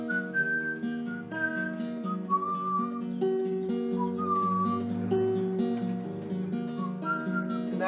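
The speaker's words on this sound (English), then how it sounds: "can you whistle? Whistle." A person whistles a clear melodic tune over sustained background music, the notes bright and close, alone without talk.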